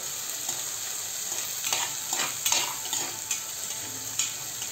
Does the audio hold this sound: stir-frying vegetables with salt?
yes